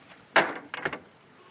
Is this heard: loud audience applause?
no